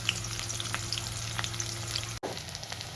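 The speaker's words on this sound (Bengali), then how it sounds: "পেঁয়াজটা হালকা বাদামি হওয়া পর্যন্ত ভেজে নেব।" Onions frying in a pan until lightly browned, a dense steady sizzle with scattered crackles and pops, close and even, broken by a brief sharp drop near the end before the sizzle resumes.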